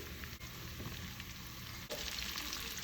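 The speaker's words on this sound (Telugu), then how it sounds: "ఇందులో కొంచెం ఉప్పు వేసుకొని ఆనియన్స్ గోల్డెన్ బ్రౌన్ వచ్చే వరకు వెంపాలి" Onions frying with salt until golden brown make a continuous dense sizzle and crackle, fairly faint, with a couple of brief dips where the pan is stirred.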